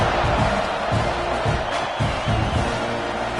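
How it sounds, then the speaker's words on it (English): Dense football stadium crowd before a kickoff, a steady wide roar of many voices with rhythmic low swells, like a chant or clapping pattern, rising and falling every half second or so. "this crowd is buzzing after that last score"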